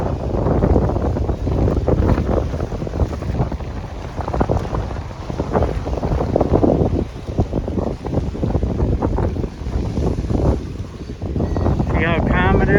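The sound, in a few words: wind at Lake Chapala pier, Mexico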